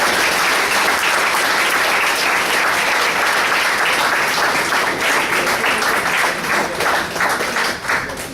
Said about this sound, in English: A big round of applause for Preetam and Aditya.